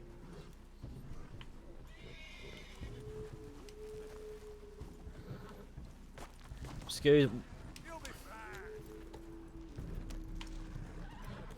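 A horse in the video game Red Dead Redemption 2 gives an agitated, loud neigh midway, with hoof clip-clops and game ambience around it and someone talking over parts of the scene.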